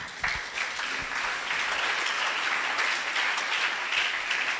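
A church congregation applauding during a sermon, a dense, steady wash of clapping from many hands that fills the whole space without pause.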